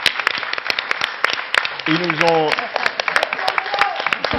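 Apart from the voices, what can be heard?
audience applause for the Ferrandi students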